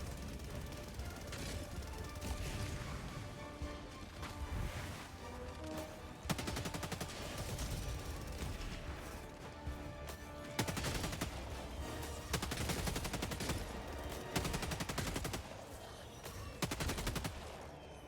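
Rapid sustained machine-gun bursts from a Gatling gun in the snowy Helldivers 2 battlefield, several long loud volleys separated by short pauses, with explosive cracks mixed in.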